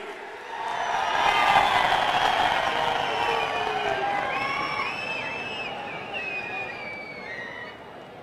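A large outdoor crowd at a public inauguration event in Jammu and Kashmir bursts into loud, sustained applause mixed with cheering and whoops, swelling early and holding steady throughout, with faint voices in the mix.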